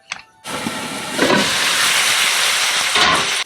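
Frozen mushrooms hiss and sizzle steadily in a covered pan on the stove after a brief quiet start, with a dense, continuous frying noise that swells slightly partway through.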